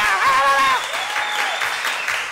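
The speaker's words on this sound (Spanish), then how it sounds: "Un fuerte aplauso" Studio audience applause on a Peruvian television puppet show, loud and steady across the whole stretch, with a host's voice rising briefly over the clapping near the start.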